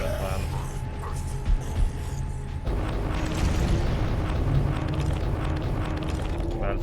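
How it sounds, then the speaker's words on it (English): An elevator moves in Warhammer 40,000: Space Marine Remastered, a steady mechanical rumble and grinding that swells after a few seconds and keeps rolling, with a few clanks and a faint voice underneath. "They take this elevator."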